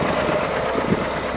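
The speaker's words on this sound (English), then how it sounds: "The exhaust sounds pretty good." A 1984 Pontiac Fiero engine idles with a low, steady exhaust rumble, close and continuous, slight uneven pulsing in the tone.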